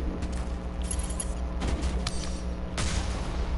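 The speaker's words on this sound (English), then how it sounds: "Should we just go ahead and start shooting people down?" Rapid bursts of gunfire in the Mass Effect 1 Legendary Edition game, a few clustered volleys at moderate distance over steady background sound, with no talking.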